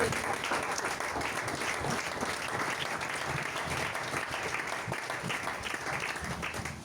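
A church congregation applauds to acclaim Jesus during a French-language sermon, a steady, dense wash of clapping from many hands that holds at an even level throughout, with no break or pause.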